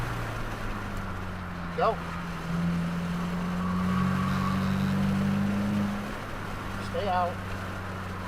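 A 2022 Subaru WRX engine held at full throttle on an open track day at Waterford Hills, a steady droning note rising in pitch across the run, with a voice calling out over it.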